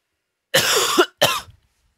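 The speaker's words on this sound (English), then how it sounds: "it's literally just a cough" Two harsh coughs, one longer burst followed by a shorter one after a brief pause, close and clear with no talking.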